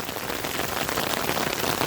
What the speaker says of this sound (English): the rain's come down pretty good